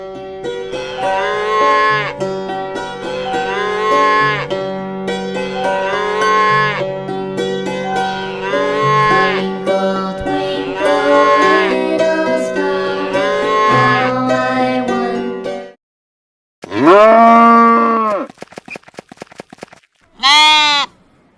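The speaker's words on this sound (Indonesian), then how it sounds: "Sapi." A sequence of drawn-out cow moos from a farm animal sounds collection, several long lowing calls in a row, loud and close, followed by a brief pause and then shorter bleating calls.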